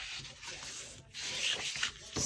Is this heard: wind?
no